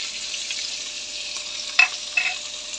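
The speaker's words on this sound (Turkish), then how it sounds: "Biberlerimizi kızarıncaya kadar pişirelim." Peppers, red, green and two long sivri ones, fry in a pan over a steady hiss after potatoes, with two brief sharp pops or utensil clinks late on.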